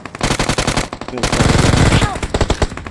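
Automatic weapon fire in PUBG Mobile, fast loud bursts of shots close by, with a brief gap before more sustained firing and impacts; a voice talks briefly underneath.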